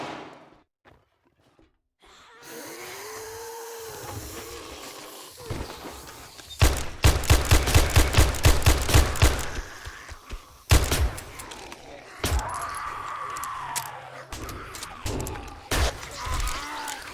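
Shotgun blasts against a zombie horde in the 7 Days to Die Outback Roadies mod: a rapid, loud cluster of booming shots fires in quick succession, followed by scattered thumps and game noise.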